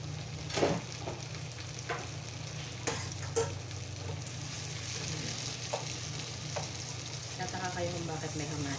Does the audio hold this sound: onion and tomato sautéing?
yes